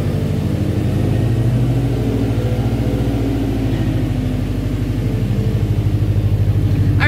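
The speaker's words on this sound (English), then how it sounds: "We're gonna go on a quick test drive and make sure it doesn't rub too bad." A Subaru STI on a test drive, its engine droning steadily with a low, pulsing rumble and a slight rise in revs toward the end, close and loud throughout.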